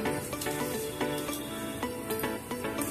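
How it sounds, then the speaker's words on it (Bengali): Whole garam masala spices sizzle in hot oil while an egg and mushroom dish is cooked, giving a soft, steady crackling fry with faint stirring scrapes, fairly quiet and without talk. "এই তেলের মধ্যে একটু গোটা গরম মশলা ফোড়ন দিয়ে দিলাম"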